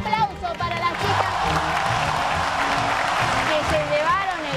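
A studio audience on a TV variety show claps and cheers for a group of girls after a challenge, with a sustained wash of applause while voices talk over it.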